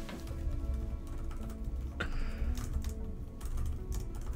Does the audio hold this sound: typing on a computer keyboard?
yes